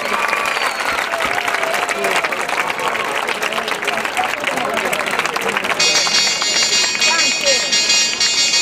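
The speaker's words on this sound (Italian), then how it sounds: "Li accogliamo con un grandissimo applauso" An audience applauds dance couples from the Magalenia school at a dance event, steady loud clapping that runs throughout, with crowd murmur beneath and a bright tone entering partway through.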